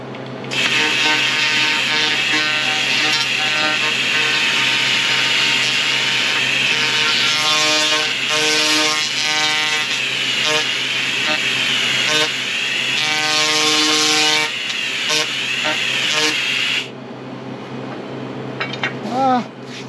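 A laser cleaner strips mill scale from steel with a loud, steady electric buzz and whine carrying strong harmonic tones; it holds continuously for about seventeen seconds, then cuts off, leaving quieter background.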